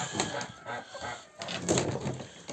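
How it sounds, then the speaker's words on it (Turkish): At a backyard coop, a rooster and hens let out a string of uneven clucks and squawks, close and fairly soft, with brief louder bursts. "Horoz bizi kapıda karşılıyor."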